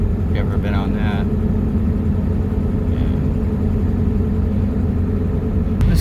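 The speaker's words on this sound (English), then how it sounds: "here's some more side traffic driving" Passing traffic on Airport Road heading out to Slidell Airport, a steady loud low road rumble with car engines throughout and a faint hiss near the end.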